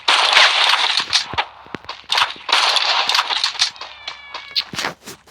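Automatic rifle fire in the Free Fire mobile game rattles in rapid bursts, loud and close, with short pauses between volleys and other sharp game effects mixed in.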